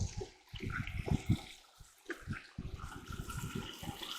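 Muddy rocks are rinsed with water in a gold prospecting high banker: close, uneven splashing and trickling in several bursts with brief quiet gaps, fairly soft overall.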